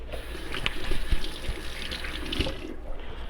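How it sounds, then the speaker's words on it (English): Hands are rinsed under a running kitchen tap, a steady close stream of water with light splashing and trickling throughout. "Let me rinse my hands because I did have my hands on that fish."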